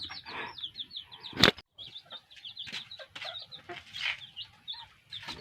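Seven young chicks in their coop chirp repeatedly in thin, high peeps, close by, with a sharp knock partway through and light rustling between the calls.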